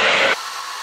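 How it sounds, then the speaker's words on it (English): Hair dryer with a diffuser attachment drying curly hair, its loud broadband whoosh running steady for about a third of a second before dropping to a quieter airy hiss. "by flipping the hair over when you're diffusing, you're going to just really allow your roots to dry quickly"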